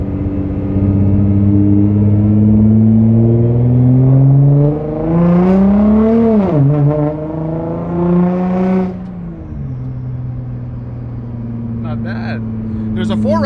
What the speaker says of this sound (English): I am gonna put the car in manual mode. Once when I make this turn, I am gonna give it just a light pull.